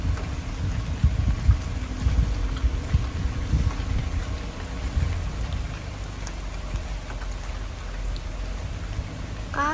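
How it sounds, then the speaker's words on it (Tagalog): Rain falls steadily in a forest near Lucban, Quezon, a soft continuous patter with low rumbling underneath, moderately loud and with no talking. "Medyo umuulan eh, oh."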